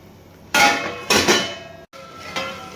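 A metal lid is set on a cooking pot of mint rice, giving several close metallic clanks and rattles in quick succession, then a short pause and one more softer clink.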